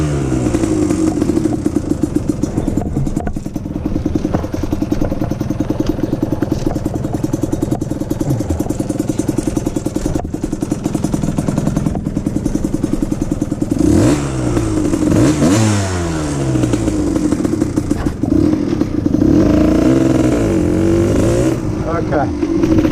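Kawasaki KDX 125 two-stroke dirt bike running with a new carburetor jet, a loud close engine revving and accelerating, pitch rising and falling with rattly clatter as it rides, with speech over it.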